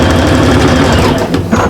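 A sewing machine runs close and loud in a continuous rapid stitching rattle while sewing the sides of a bag together, with a brief slight slowdown near the end.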